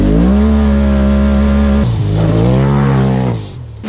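A car engine revs hard, its pitch holding steady, dropping briefly, then climbing and shifting again, loud and close throughout the stretch.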